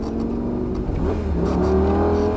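A car accelerating on a track after braking out of a corner, its engine note climbing steadily in pitch and loudness through the gears, heard close and continuous.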